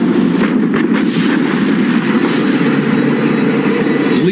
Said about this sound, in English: Bismarck opens fire.